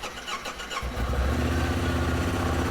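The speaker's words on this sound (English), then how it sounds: "So next we're going to go ahead and start the vehicle." A 2019-2025 Honda Talon side-by-side is started, its starter whirring briefly against a background fan hiss before the engine catches and settles into a loud, steady idle rumble close by.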